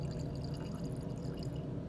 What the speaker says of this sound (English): to my test tube labeled water, I'm going to add approximately a milliliter of water